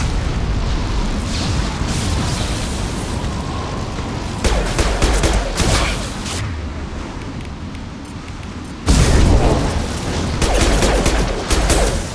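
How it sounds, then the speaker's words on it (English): A flashbang grenade and heavy weapons fire in Mass Effect 2 make loud, sustained bursts and booms, with dense, noisy blasts swelling in waves throughout. "Watch out, flashbang!"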